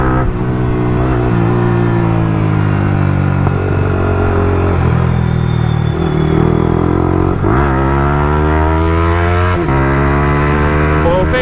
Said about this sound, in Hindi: तो एग्जॉस्ट की आवाज़ सुन लो पहले